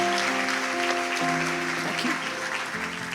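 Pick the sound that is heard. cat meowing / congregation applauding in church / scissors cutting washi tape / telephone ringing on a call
congregation applauding in church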